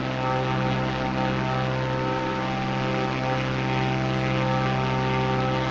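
The steady drone of a Diamond light aircraft's propeller engine in a flight simulator video game, a loud, constant hum that holds unbroken throughout.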